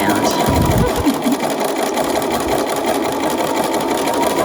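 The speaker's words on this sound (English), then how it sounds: "I'm just going to go in and stitch it all the way around." A sewing machine runs steadily and close, stitching piping around a fabric piece, with a continuous loud mechanical whir and a faint voice underneath.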